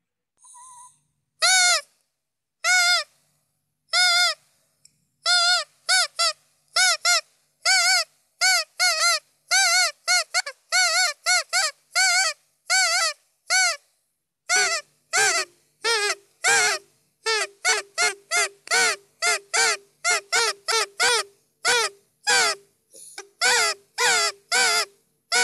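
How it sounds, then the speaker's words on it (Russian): A Nganasan reed goose call, a hunters' decoy instrument, sounds loud and close in long series of short, nasal, reedy honks. It plays alone in quick rhythmic bursts, and the pitch drops lower partway through. "Используют его охотники, когда хотят приманить гуся, то есть это манок на птицу."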